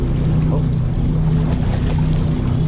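A motorboat drives across open water during a salmon fishing trip, its engine a steady loud drone with a constant hum and water rush, no talk heard over it.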